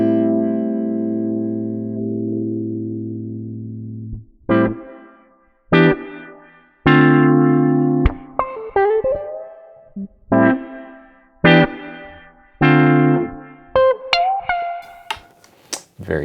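A guitar run through Kalide's Collage audio plugin, giving an amp-like distorted tone: a long sustained note, then a series of separate punchy stabs and short phrases with gaps of silence between them, close and loud, without talking.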